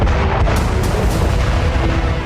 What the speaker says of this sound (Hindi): होवित्जर तोप से गोले दागे